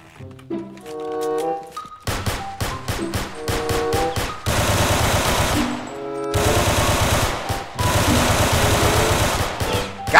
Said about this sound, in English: I just got shot at